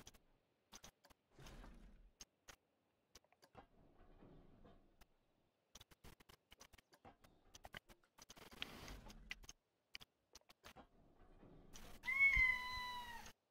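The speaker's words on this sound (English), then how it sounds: "What, cat? Huh? What are you doing? Come here." A house cat meows loudly and close by with a few rising, wavering calls near the end, after a long stretch of quiet scattered clicks and rustling.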